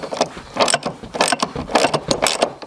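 A wrench ratchets a bolt tight while reinstalling the convertible top rams on a Mustang, a rapid series of close, sharp clicking strokes in an uneven rhythm, with no talking.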